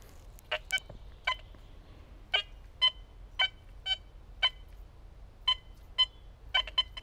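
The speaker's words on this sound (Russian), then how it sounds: "Двадцать четыре сантиметра самый более-менее уверенный сигнал" Short, sharp electronic beeps from a Quest X10 IDmaxX metal detector, sounding in an irregular series of about a dozen tones, some in quick pairs, over faint low background noise.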